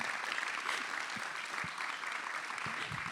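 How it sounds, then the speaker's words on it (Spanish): An audience applauds steadily throughout at a live talk, a dense wash of clapping with no pauses. "partamos dándole un aplauso a Julio"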